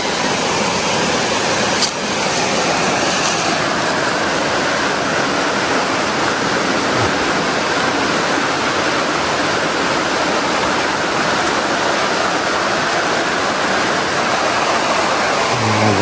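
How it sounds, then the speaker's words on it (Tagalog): Constant, loud broadband rush of flowing water from a mountain stream or waterfall, steady throughout with no pauses and no one speaking. "Tubig."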